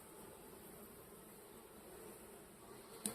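Honeybees swarm inside a hive over sugar crystals, a soft, steady buzzing hum that stays continuous and faint, with a brief louder knock near the end.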